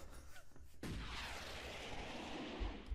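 Turrets open fire in the Starship Troopers video game, a sudden heavy blast giving way to a dense rumbling barrage of shots that rolls on steadily, with a few soft knocks before it.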